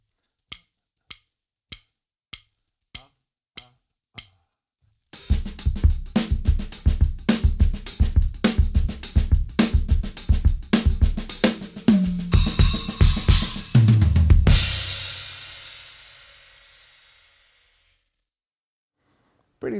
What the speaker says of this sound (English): he plays this really cool rudimental groove that has a samba-like lilt to it